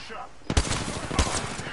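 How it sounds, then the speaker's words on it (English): Gunfire in Apex Legends during a late-round fight in a shrinking ring, with two sharp, loud bursts about half a second apart and a dense rattle of shots between and after them. "I shouldn't have shot that gas trap"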